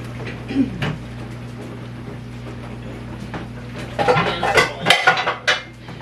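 Pans being stuck into a kitchen cupboard while cleaning up after cooking dinner: a faint clink early on, then a burst of loud metallic clattering and banging near the end.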